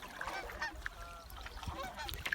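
Geese honk repeatedly in the morning on McCraney Lake, Algonquin, their harsh calls overlapping in an irregular chorus at moderate distance over a steady outdoor background.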